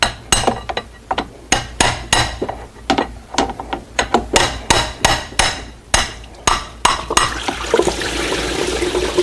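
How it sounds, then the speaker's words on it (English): Sharp metallic hammer strikes tapping out an Audi Q7 water pump ring in an uneven series of about two dozen taps, then give way to a steady rushing of draining coolant. "So I'm gonna use this with the hammer."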